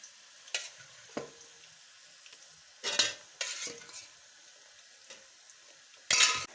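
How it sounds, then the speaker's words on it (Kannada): Onions frying in a pan for Gobi Manchurian as homemade tomato sauce is added and stirred in, with a steady low sizzle under scattered scraping and stirring bursts and a sharper clatter near the end; no talk. "ಈರುಳ್ಳಿ ಸ್ವಲ್ಪ ಬೆಂದ ನಂತರ ಈ ಟೊಮೆಟೊ ಸಾಸನ್ನು ಇದಕ್ಕೆ ಆ್ಯಡ್ ಮಾಡ್ತಾ ಇದ್ದೀನಿ."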